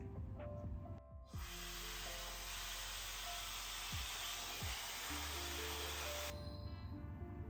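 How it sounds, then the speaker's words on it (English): Blow dryer drying hair during a blowout, a steady loud hiss and whir that runs for several seconds, then cuts off, with faint brush movements beneath it. "taking a blow dryer, we're just going to go up and down a couple of times"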